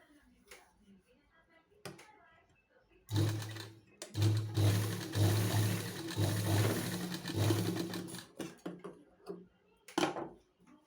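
Sewing machine stitching the front part of a blouse, a close whirring run of about five seconds between pauses, with soft handling noises of fabric before and after.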